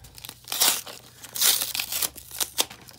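Heavy duty tape rips off a mail package in several loud, crackling tearing bursts mixed with crinkling, close up and with no talking.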